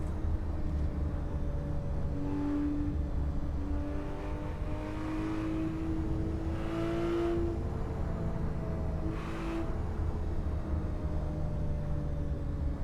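Car engine droning steadily while driving in the racing game Assetto Corsa, the revs rising and falling in smooth sweeps, continuous and close with no pauses.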